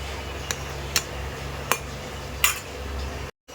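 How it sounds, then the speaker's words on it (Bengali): A spoon stirs jute leaf lentil dal in a cooking pot, giving four or five sharp metallic clinks spaced irregularly over a low background hum, then a sudden cut to silence. "এবার একটু নাড়িয়ে দেবো"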